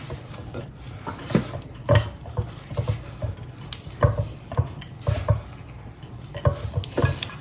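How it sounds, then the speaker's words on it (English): Sugar stirred into light corn syrup in a bowl, a close series of soft gritty scrapes and utensil taps against the bowl in an uneven rhythm, with no voices. "Stir it to combine it just a little bit, and it's going to be a sticky mixture"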